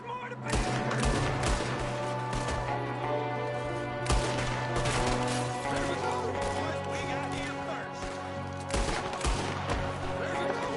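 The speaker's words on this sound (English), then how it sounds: "There's another one shooting from the window." A shootout in Red Dead Redemption 2 crackles with repeated gunshots: sharp cracks and short volleys scattered throughout, layered over sustained background music.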